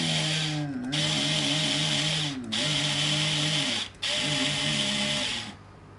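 A DeWalt cordless power tool whirs steadily at high speed, its motor pitch dipping and recovering under load, with three brief pauses between runs, loud and close with no talking.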